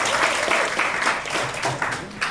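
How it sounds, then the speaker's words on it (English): Dense audience applause at an interfaith anniversary celebration and award dinner, steady loud clapping from a room full of guests. "Let's give Dr. Khan a round of applause, please."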